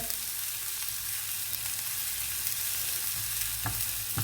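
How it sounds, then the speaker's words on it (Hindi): Chopped onion sautéing in a pan with fried cumin, a steady, moderate sizzle running throughout, with a couple of brief spoon scrapes near the end. "प्याज को हल्का सा सौटे करना है हमने"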